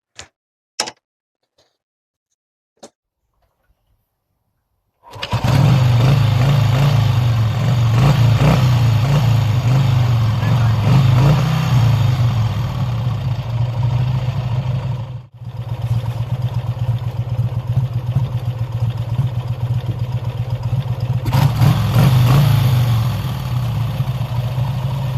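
A Vincent Black Shadow motorcycle, chokes set and compression release lever pulled, is kick-started after a few quiet clicks, then its engine catches and runs at a loud, steady idle with mechanical clatter, dipping briefly midway and carrying on alone.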